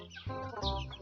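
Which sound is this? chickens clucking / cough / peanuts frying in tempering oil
chickens clucking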